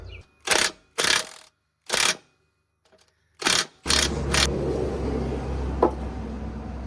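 A grade 8 bolt with lock washer being tightened on a truck, several loud ratchet bursts in quick rhythm, close, followed by a steady low engine-like rumble.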